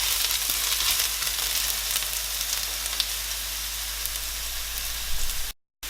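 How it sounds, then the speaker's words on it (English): Garlic stir-frying in hot oil in a pan for Chinese orange chicken, a loud, dense, continuous crackling sizzle up close that cuts off abruptly near the end. "In goes our garlic. And we just want to stir fry that for a few seconds."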